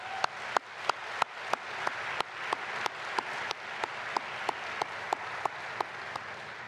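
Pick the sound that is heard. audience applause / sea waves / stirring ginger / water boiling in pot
audience applause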